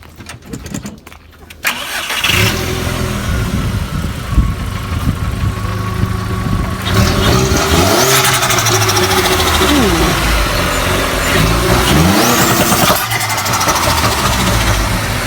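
A car engine cranks and catches, then runs loud and close with rising and falling revs, a steady rumbling roar that swells as the throttle is blipped, with brief voices at the start.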